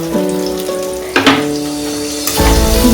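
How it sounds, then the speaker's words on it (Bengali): Chopped garlic and onion sizzle in hot oil in a pan, a steady close crackle with a sharper burst as the onion drops in partway through; no voices. "রসুনটাকে ভেজে নিচ্ছি। এরপর পেঁয়াজ কুচিটা দিয়ে দিলাম।"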